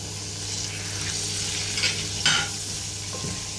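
Steady sizzling of onion and bell pepper frying in a pan, with a few brief stirring scrapes partway through; no talking.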